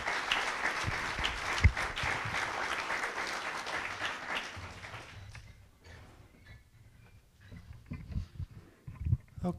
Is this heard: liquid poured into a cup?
no